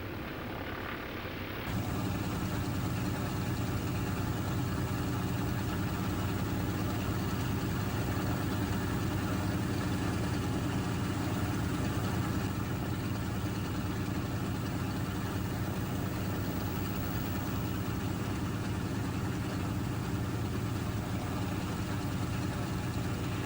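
The piston engines of a B-17 bomber idle while it taxis, a steady, loud droning rumble that continues without a break for the whole stretch.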